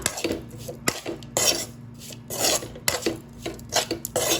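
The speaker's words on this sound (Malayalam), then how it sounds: "എന്നിട്ട് നന്നായിട്ടൊന്ന് ഇളക്കി കൊടുക്കാം" Bitter gourd and powdered jaggery being stirred in a pan produce repeated rasping scrapes of a utensil against the pan, coming in rhythmic strokes about every half second, close and fairly loud.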